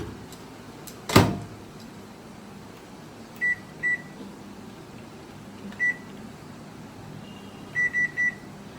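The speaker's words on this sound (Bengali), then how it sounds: "এবার মাইক্রো ওভেনে ওভেনের ভেতর আমি বাটিটা দিয়ে দিলাম" A microwave oven door shuts with a single sharp thunk in a home kitchen while a covered bowl of hilsa fish is being cooked, followed by several short, clear beeps from the keypad, spaced out and then in a quick triple.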